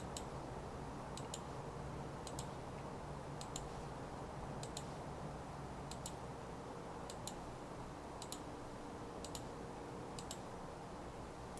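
Mouse clicks on a computer while working in 3ds Max: pairs of short, crisp clicks repeat roughly every second, faint over a constant hiss of background noise, with no talking.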